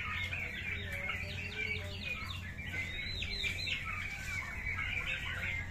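Turkeys at a small low-cost turkey farm in Shibganj, Chapainawabganj, give repeated soft clucks and chirpy calls close by, overlapping in a busy chatter over a low steady hum.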